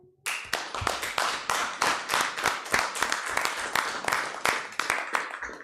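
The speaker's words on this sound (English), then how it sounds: "So round of applause for our sheriff's department." Clapping breaks out at a county board meeting in Sawyer County, a small group applauding in sharp, distinct claps that build quickly and continue at a steady pace, close and fairly loud.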